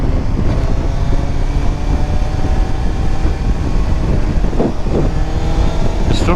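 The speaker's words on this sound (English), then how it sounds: "There's absolutely almost no engine braking when I'm in 5th gear." Steady car engine drone while driving in fifth gear, with almost no engine braking, a constant broadband rumble and road noise heard from inside at an even level, with no talking.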